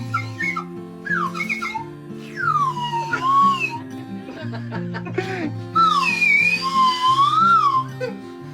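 A water-filled clay gourd whistle (huijola) warbles in bright, bird-like trills and sliding tones, played in several phrases over steady background music.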